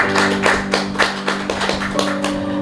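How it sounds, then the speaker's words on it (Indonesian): An audience claps at a Ramadan religious gathering, giving a steady run of rhythmic, fairly even claps over a constant background hum, with no talking. "Tepuk tangan untuk beliau."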